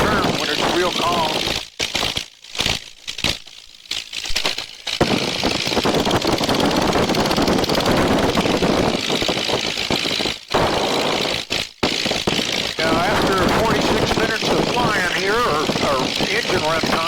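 A Legal Eagle XL ultralight aircraft engine drones steadily in flight over East Texas, a loud continuous buzzing hum with brief dips, while someone talks over it intermittently.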